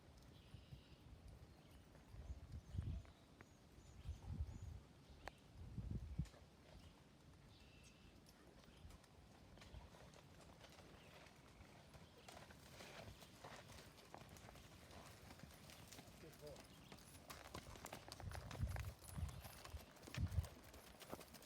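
Horse hooves clip-clopping steadily on the ground in a smooth, even foxtrot gait rhythm, fairly quiet and heard from a short distance.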